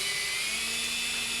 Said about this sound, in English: I'm drilling and countersinking the hole for the next screw